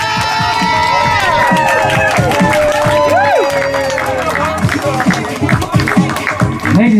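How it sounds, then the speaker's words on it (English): Crowd cheering, shouting and clapping for a participant at an art car festival fashion show, a loud, busy outdoor mix of voices and whoops with children's shouts mixed in. "And applause for Hal, Dr."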